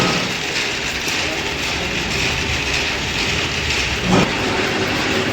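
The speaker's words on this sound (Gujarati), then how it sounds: "સાફ્ટિંગ ચાલુ છે." Line shafting machinery runs in a workshop with pulleys, giving a loud, continuous mechanical rumble and whir with one brief knock near the end.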